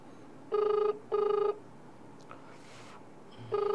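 A telephone ringing nearby in a room, with two evenly spaced double-burst electronic rings, then a short pause with faint rustling, and a third ring beginning at the end.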